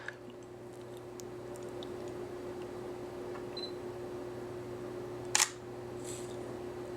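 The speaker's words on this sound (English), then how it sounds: "I'm just taking multiple exposures at different brightnesses or different," Sony NEX-7 camera shutter firing a quick burst of exposures, one sharp mechanical clatter standing out near the end against a quiet room hum.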